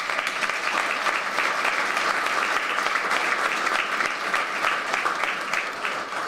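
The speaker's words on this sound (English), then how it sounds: "A round of applause for that" A hall full of business-community guests at a State of the County event applauds steadily and loudly for about six seconds, dense clapping with no breaks and a slight tail-off at the end.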